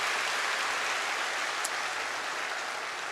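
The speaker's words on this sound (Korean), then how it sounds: "박수로 축하해 주시기 바랍니다." Congregation applause during a Sunday church service, a thick, steady wash of many hands clapping at once, loud and continuous throughout with no talk.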